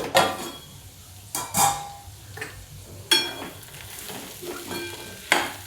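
Ivy gourd (tondli) sautéing in a pan over low gas, a steady soft sizzle broken by several sharp scrapes and clinks of a spatula stirring against the pan, close and clear with no talk.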